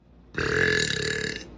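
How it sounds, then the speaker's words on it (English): A single long, deep burp from a woman, loud and close, starting abruptly and sustaining for about a second before cutting off. "I've gotten asked how I burp on command"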